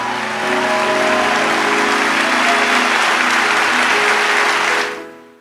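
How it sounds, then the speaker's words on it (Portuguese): A church congregation breaks into loud, sustained applause during a priest's sermon, dense clapping holding steady for several seconds before fading out abruptly. "dá uma salva de palmas bem forte ao Senhor"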